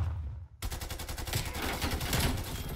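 Rapid automatic gunfire in Call of Duty: Black Ops Cold War, starting abruptly after a short quiet moment and continuing as a dense, loud, regular burst of shots.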